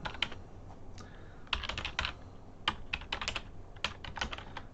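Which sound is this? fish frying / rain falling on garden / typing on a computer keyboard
typing on a computer keyboard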